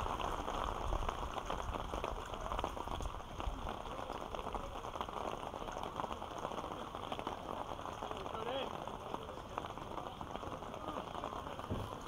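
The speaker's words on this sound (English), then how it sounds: "As the rain steadily comes down at Holmes Field." Steady rain comes down at a baseball field during a minor-league game, a dense, even hiss of drops on surfaces that holds unchanged throughout, faint and without pauses.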